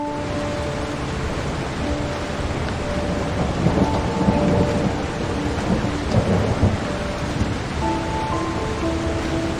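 Steady heavy rainfall with rolling thunder in the video game Heavy Rain, a dense, constant hiss swelling at moments into low rumbles, with faint music tones drifting over it and no talk.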